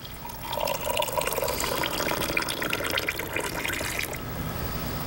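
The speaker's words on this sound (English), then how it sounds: "now I want you to add this beaker of water in with our powder" Water from a beaker poured onto powder for an instant snow experiment, a steady close splashing pour lasting several seconds before it tapers off.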